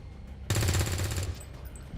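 Gunfire in XCOM 2: a loud, sudden burst of rapid automatic shots lasts under a second, then fades into a softer rumbling tail.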